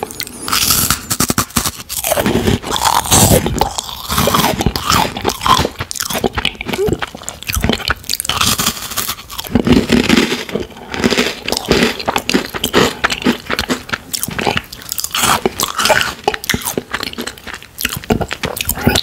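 Crunchy freeze-dried mango is bitten and chewed very close to the microphone, a dense, loud run of brittle crunches and crackles that continues steadily, with no talking.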